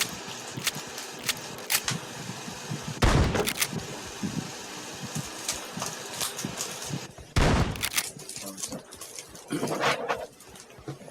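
Gunfire from a shooter video game, with sharp loud bursts near the 3 and 7.5 second marks over a busy background of smaller pops and game effects.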